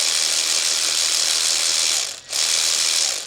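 Ryobi PCL280 cordless ratchet running under power, a steady buzzing mechanical whir close up that drops out briefly near the end before resuming.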